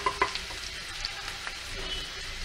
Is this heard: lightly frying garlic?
yes